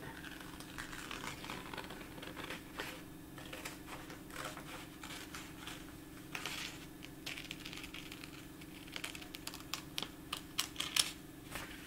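Scissors cut through felt fabric in a run of small, close snips and crunches, irregular and fairly quiet, with a few sharper clicks toward the end.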